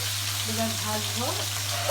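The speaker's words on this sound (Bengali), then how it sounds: "এবার ভাজবো" Fish sizzles steadily as it fries in a hot pan, a continuous close crackle with a low hum underneath and faint voice-like tones in the background.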